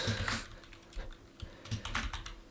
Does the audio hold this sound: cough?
no